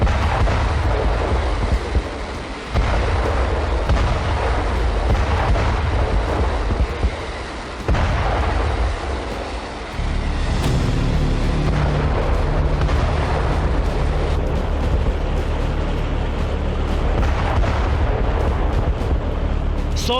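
Artillery fire and explosions in the war in Ukraine, with deep booming blasts and rumbling impacts one after another over a continuous low roar, loud and heavy throughout.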